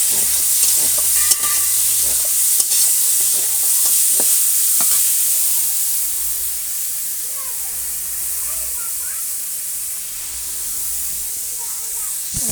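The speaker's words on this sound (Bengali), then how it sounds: "ফুলকপি একটু ভাপিয়ে ফুলকপি ভাজা" Lightly steamed cauliflower fries in a pan with a steady sizzling hiss, broken by clicks and scrapes from stirring early on, then settling into a softer, even sizzle.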